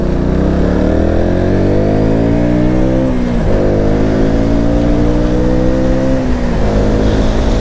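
A KTM Duke 200 motorcycle on an open road ride, its engine droning loud and close, with the pitch climbing, dropping sharply at a gear shift and climbing again under heavy wind rush.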